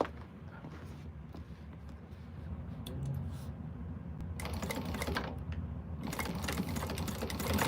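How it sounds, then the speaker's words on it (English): Sewing machine top stitching a quilted bag runs as a fast, steady mechanical whir at close range, continuous throughout and building slightly louder toward the end. "I'm going to top stitch this on the bag"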